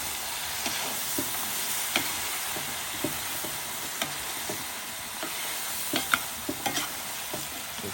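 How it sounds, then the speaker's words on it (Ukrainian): Meat for bograch sizzles steadily in a large cauldron while a utensil stirs it, scraping and clinking at irregular moments over the constant frying hiss. "І відразу перемішуємо."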